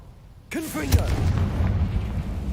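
A Confringo blasting spell fires in a video game, a sudden sharp blast after a brief quiet moment, followed by a rolling, rumbling boom that stays loud to the end; a short voiced cry rides on the onset.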